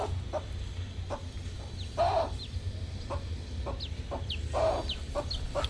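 Chickens with small chicks, soft repeated clucks from the hens mixed with faint high chick peeps, close by, over a low steady background with no talking.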